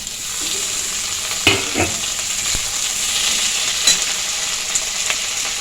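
Chopped tomato and capsicum sizzling in a pan with lightly fried onion, a steady close frying hiss broken by a few scraping stirs, without speech.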